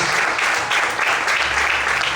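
A church congregation applauding the Lord during a service, a steady wash of many hands clapping throughout at close range with a faint voice underneath.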